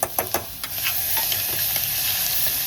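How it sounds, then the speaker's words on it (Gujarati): Grated garlic frying in hot oil with asafoetida and a whole red chilli, a few sharp clicks and stirring scrapes at the start, then a constant close sizzle alone. "લસણ કકડી ગયું છે"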